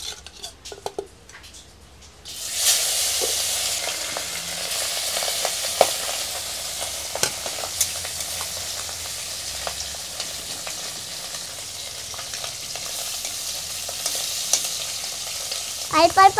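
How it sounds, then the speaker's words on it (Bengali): Fish sizzling and frying in hot oil in a pan for a tamarind fish gravy, a steady close crackle of oil with occasional stirring clinks, and no talking. "তেল গরম হয়ে গেছে, আর আমি এখন মাছ ভাজা দেব।"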